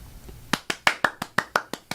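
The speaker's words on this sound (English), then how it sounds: "Someone clap." About nine sharp hand claps in a quick, fairly even rhythm, close and crisp in a quiet room during a podcast setup, no voices.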